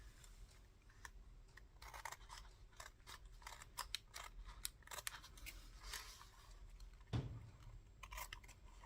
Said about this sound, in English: Get a pair of scissors and trim off the edges.